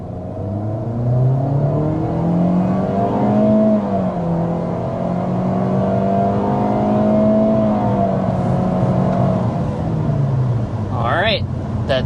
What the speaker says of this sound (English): That takes us up to 60 miles per hour with the Corolla